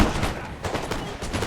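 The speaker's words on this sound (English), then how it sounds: "you will see quite prolonged musket duels" Musket volleys in a Napoleon: Total War mod, a rapid overlapping crackle of many shots rolling together into a continuous barrage, loud and without pause.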